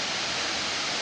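Salmon River Falls pours as a broad, steady roar of falling water, loud and continuous with no other sounds over it.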